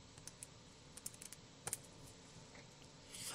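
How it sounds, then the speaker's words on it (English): Keys typed on a computer keyboard in a quiet room, a sparse run of separate clicks with a short quick burst partway through, fairly faint throughout and with no talking. "let me just type it this time"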